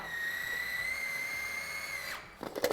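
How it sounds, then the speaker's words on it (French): A food processor blends a ricotta, spinach and olive oil filling with a steady, high motor whine for about two seconds, then cuts off into a few brief clattering knocks. "je vais mixer l'ensemble"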